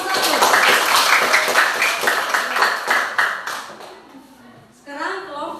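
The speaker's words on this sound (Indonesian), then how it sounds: "tepuk tangan untuk kelompok satu" Classroom group of teachers clapping for the first presenting group, a dense patter of many hands fading after about four seconds, with voices starting up near the end.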